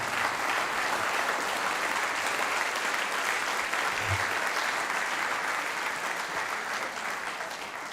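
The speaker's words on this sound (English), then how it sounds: "I'd like to give our inductees and recipients another round of applause" Audience applause for Hall of Fame inductees and recipients at a 2023 induction ceremony: dense, steady clapping from a large crowd that carries on for the whole stretch and fades only slightly near the end.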